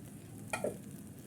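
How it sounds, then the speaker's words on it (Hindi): Ground cashews tipped into a pan for Punjabi panjiri, giving a short soft scrape and stir over a faint sizzle, close and quiet. "इसके अंदर अब हम काजू डालेंगे।"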